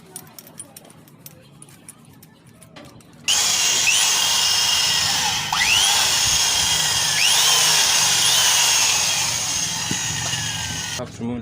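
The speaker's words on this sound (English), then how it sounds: "We're going to drill in using this 10mm drilling bit, so to remove these stunted threads" A power drill with a 10mm bit boring out stripped threads in a transmission box, starting after a few quiet seconds with quiet handling noise and running loudly and steadily with pitch sweeps as the load changes, then stopping near the end.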